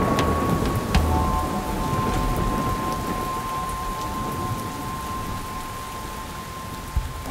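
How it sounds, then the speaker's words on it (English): Steady rain pours down outdoors in California, a dense even hiss throughout, with a few sharp cracks and low rumbles of thunder and a faint sustained tone in the background. "they're not very used to this precipitation coming from the sky"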